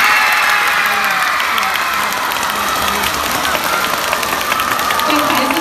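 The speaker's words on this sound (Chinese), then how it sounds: "我来听一下哪一位的掌声最为热烈" Live audience with many children applauds and cheers steadily for a contestant who performed Shaolin mantis-style kung fu, a sustained, even roar of clapping and shouts.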